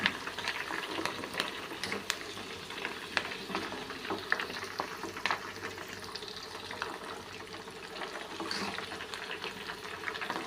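Oil simmers gently over a low flame, a soft continuous bubbling fry with faint crackles and occasional stirring, quiet and close with no talking.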